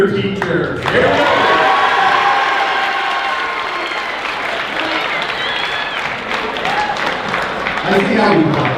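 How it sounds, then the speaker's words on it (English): High school students at a recognition assembly rise to applaud and cheer for a junior teacher, a loud, sustained crowd roar of clapping and shouting in a large hall. "Every student get up and cheer for the junior teacher."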